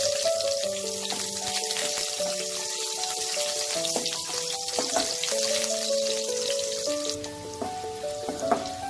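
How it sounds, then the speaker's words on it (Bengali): Bitter gourd pieces frying in hot oil for Bengali sukto give off a dense, rain-like spattering sizzle with a few stirring knocks, under soft background music. "এবার এই তেলেই আমি উচ্ছেগুলো ভেজে নেব।"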